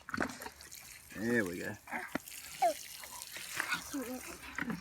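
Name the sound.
water being poured out to water pumpkin plants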